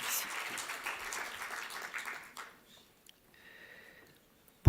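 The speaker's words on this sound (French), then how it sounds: "Sous vos applaudissements, mesdames et messieurs." Applause from a conference audience at a pharmacy trade expo, a dense wash of clapping over the first two and a half seconds that thins and fades, followed by quieter room noise with a few faint tones.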